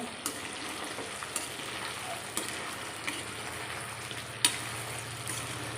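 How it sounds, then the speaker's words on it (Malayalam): Pre-cooked beef pieces deep frying in oil for Kerala-style beef pickle, a steady bubbling sizzle up close with occasional sharp clicks of a spoon or ladle stirring. "ഇനി ഇത് ഇത് പെട്ടെന്ന് വറുത്ത് കിട്ടും നമ്മൾ വേവിച്ചിട്ടിട്ടേക്കുന്നതുകൊണ്ട് പിന്നെ ഇതൊന്ന് വറുത്ത് വറുത്ത് കോരിയെടുക്കാം"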